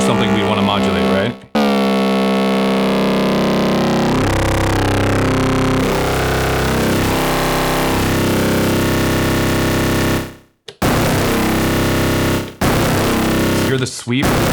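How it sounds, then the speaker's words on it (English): Digitone II synthesizer playing a harsh, distorted filter sweep, loud and continuous, with sustained crunchy tones that shift pitch over several seconds and break off briefly near the end before resuming. "The sweep is making it really distorted at the very beginning."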